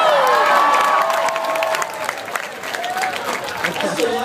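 Audience at an anime convention panel cheering and applauding loudly, a dense crowd roar with whoops and shouts that stays strong throughout, dipping slightly midway before swelling again.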